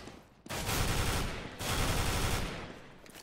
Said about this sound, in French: Une petite rafale de FAMAS